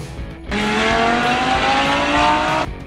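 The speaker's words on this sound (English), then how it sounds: "Supercar!" A supercar engine revs hard at close range, a loud sustained roar lasting about two seconds with its pitch rising as it accelerates.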